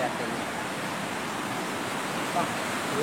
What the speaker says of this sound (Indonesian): Penampungan air. Mungkin ada air terjun yang gede kan.